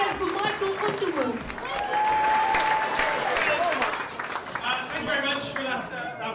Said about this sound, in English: Can everyone put their hands together for Michael Underwood?